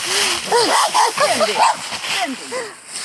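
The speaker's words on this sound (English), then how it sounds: "That's the first dog that's barked at me in decades" A small dog yips and barks in quick, high, excited bursts at close range during an autumn walk through Reservoir Park in Pennsylvania. The calls keep coming steadily for a few seconds.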